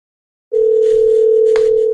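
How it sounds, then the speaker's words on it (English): A telephone dial tone comes in abruptly after half a second as a call is placed. It holds as one loud, steady, unbroken tone to the end, with a faint click partway through. "I'm gonna call him on the phone real quick."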